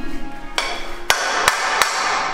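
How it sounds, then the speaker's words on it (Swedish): A small hammer taps a wall plug into place: four sharp, close metallic knocks, the first softer and the next three firm, spaced unevenly with no talk. "Ta med lilla hammaren."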